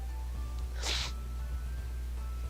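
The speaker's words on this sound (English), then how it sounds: "Man, I hate sneezing." A single sharp sneeze bursts out near the start and passes quickly over a constant low background hum.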